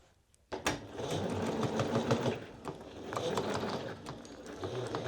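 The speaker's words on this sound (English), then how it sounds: "we're going to sew at 1/2 inch from one folded edge to the other" A sewing machine stitches a half-inch skirt seam, a quick mechanical whir with rapid clattering needle strikes that starts abruptly after a brief quiet and runs steadily close by.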